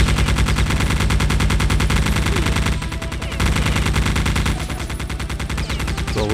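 Rapid gunfire in the video game Geist, a dense, loud volley of repeated shots over layered game sound that continues throughout, easing slightly in two spots.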